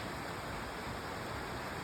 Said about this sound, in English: Beautiful creek, it's flowing good.